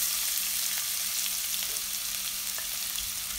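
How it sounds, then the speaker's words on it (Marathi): Onion sautéing in hot oil in a kadhai, a continuous close, even frying sizzle with faint stirring ticks, no voices. "आणि 2 मिनटं आपण कांदा हा परतून घेऊया"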